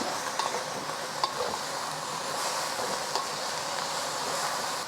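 Vegetable stalks sizzling in a hot pan while noodles are prepared, a steady frying hiss with occasional soft clinks and stirring scrapes.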